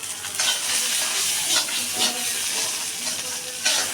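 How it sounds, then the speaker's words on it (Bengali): Vegetables fry in spices in a pan as peas are added, a constant hissing sizzle with several brief stirring scrapes and swells of louder bubbling. "এদিকে সব কটা সবজি ভেজে নিয়েছি মশলাতে আমি এখন মটরশুঁটি দিয়ে দিচ্ছি"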